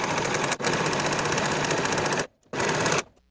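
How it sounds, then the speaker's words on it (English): A sewing machine stitches and finishes the seam allowances on the back sleeve seams of a raglan sleeve top. It runs as a steady, rapid mechanical rattle for about two seconds, stops briefly, then gives a short second burst. "Now I'll sew and finish the seam allowance for both of these back sleeve seams."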